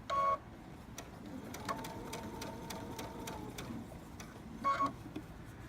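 A sewing machine top-stitching fabric on a straight stitch, running in a steady mechanical whir with rapid needle ticks, brief bursts at start and end around a longer sustained run, close and fairly quiet.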